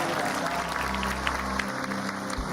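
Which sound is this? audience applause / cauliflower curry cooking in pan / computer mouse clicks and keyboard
audience applause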